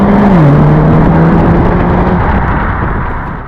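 Mercedes-AMG CLA35 engine pulling hard while driving on a road, a loud, steady aggressive drone with a rising and dipping tone over road and wind roar, fading slightly at the end.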